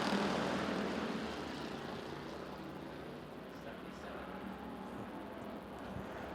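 Bomber-class race cars roar off together to start a heat at Arizona Speedway, a loud wash of engine noise that swells at the start and then holds steady as the field pulls away.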